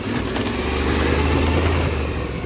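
An adventure motorcycle ridden around a short exercise track, its engine a steady close drone with a low rumble that holds even, no talk.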